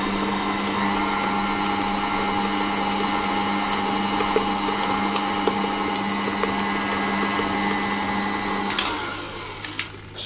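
An electric mixer beats eggs into butter for cupcake batter, a loud steady motor whine running for about nine seconds before it slows and cuts off near the end.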